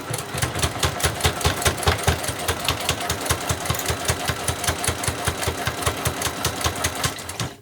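A domestic sewing machine stitches along the teeth of a zipper on a school pencil case, a fast, even mechanical rattle of needle strokes running continuously and close up.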